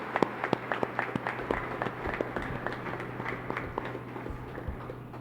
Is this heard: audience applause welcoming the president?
yes